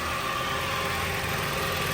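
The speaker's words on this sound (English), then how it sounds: "Got the engine running." A 2004 Subaru Outback with the 3.0 H6 engine, idling after valve cover gasket and spark plug work, a steady close, even hum with no voices.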